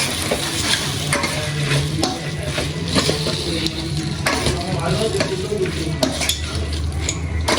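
Egg dry roast masala sizzles and fries in a pan while a spoon stirs it, with repeated scraping clinks over a constant crackle, close and fairly loud.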